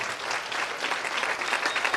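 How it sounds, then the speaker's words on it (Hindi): At a Christmas celebration service, a church congregation claps in thanks to the Lord, a dense, even patter of hands held at moderate volume throughout. "ताली बजाकर प्रभु का धन्यवाद कर सकते हैं।"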